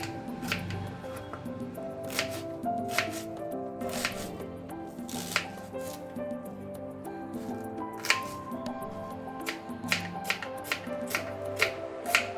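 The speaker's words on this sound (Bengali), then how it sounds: "তো কারি বানানোর জন্য এখানে পেঁয়াজ আর লঙ্কা, কাঁচা লঙ্কা নেওয়া হয়েছে। তো এগুলো এরপর কেটে নেব।" Onions and green chillies being chopped for curry, sharp knife strikes on a board at an irregular pace, close and crisp, with faint rustling between cuts.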